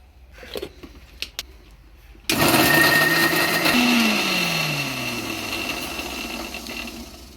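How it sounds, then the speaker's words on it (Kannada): A few faint clicks, then a mixer grinder whirs loudly to life and runs steadily, its pitch sagging slightly as it churns. "ಇದನ್ನೊಂದು ಸ್ವಲ್ಪ ಕವಡ ಬಿಡ ಮಿಕ್ಸರ್ಗೆ ಹಾಕ್ಬೇಕು"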